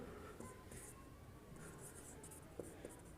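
A pen or chalk writing out a trigonometry equation during a class lesson, faint scratchy strokes with a couple of sharp taps, recorded close but quiet.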